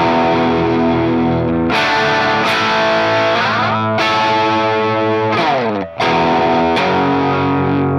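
Electric guitar played through a Marshall SV20H Plexi-style amp with the high treble and normal channels blended, giving sustained overdriven chords that ring out in several strikes with brief gaps, loud and close with no talking.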